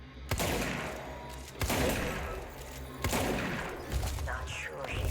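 A gun fires in the video game Control, with three or four heavy blasts at roughly regular intervals, each followed by a rumbling tail, loud and close within game ambience.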